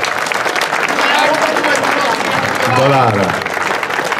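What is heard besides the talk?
audience applause at an award ceremony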